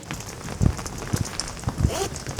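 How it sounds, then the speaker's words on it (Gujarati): Morning rain falls in Bhuj, a soft steady patter on surfaces broken by a few dull nearby thumps over about two and a half seconds. "તો ફ્રેન્ડ્સ આજે સવારથી વરસાદ ચાલુ છે ભુજમાં."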